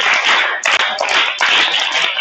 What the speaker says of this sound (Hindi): तालियां बजाओ बेटा इसके लिए